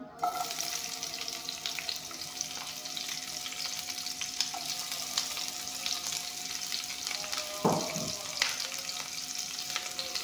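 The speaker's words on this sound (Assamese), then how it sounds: "পিঁয়াজখিনি অলপমান ভাজি ল'ম" Chopped onions fry in hot refined oil for a jackfruit and fish curry, giving a dense steady sizzle that runs throughout with occasional stirring scrapes, and no one talking.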